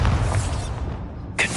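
A Bombardo blasting spell cast inside an abandoned goblin mine in Hogwarts Legacy, giving a broad rumbling burst with a deep low-end boom that fades, then a short sharp crack near the end.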